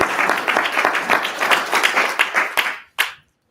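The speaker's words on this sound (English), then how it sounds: "let me know with your clapping. Just clap, clap." Small seminar audience clapping in a brief, uneven burst of separate hand claps that stops abruptly, followed by a short final clap, fairly close and loud.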